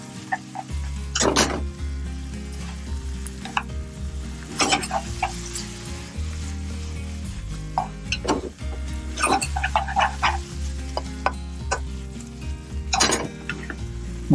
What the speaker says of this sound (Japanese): 弱火で混ぜていきます。